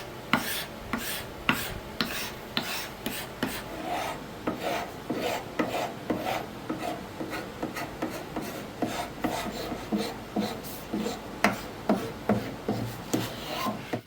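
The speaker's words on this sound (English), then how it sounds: "The inside is a lot easier to sand. It comes off fast." Sandpaper rubs rhythmically over the wooden inside of an old heirloom cradle being refinished, producing regular back-and-forth scraping strokes that are close and fairly loud, with no speech.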